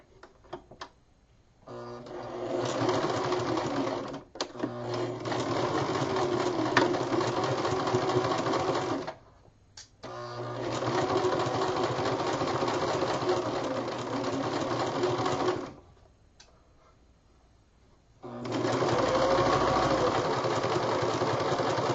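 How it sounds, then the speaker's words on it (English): A sewing machine running a 1/4 inch French seam, a close, steady mechanical whirr in three long bursts of several seconds each, separated by short pauses, with no talking. "I'm going to go ahead and sew this 1/4 inch seam allowance, which lines up with the edge of my presser foot."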